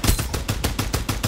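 Rapid automatic gunfire from the video game Farlight 84 in a quick, even burst of about eight sharp shots, loud and close with no voices.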